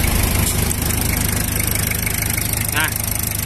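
A used Japanese Iseki tractor's diesel engine idles steadily with an even, rapid low thumping, loud and close, while someone talks over it.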